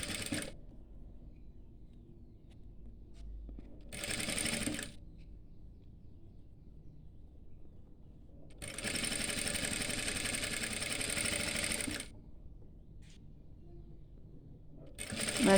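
A sewing machine stitches a petticoat in short bursts, a buzzing whir that runs for about a second, then for a longer stretch of a few seconds, with quiet pauses between and another burst starting at the end.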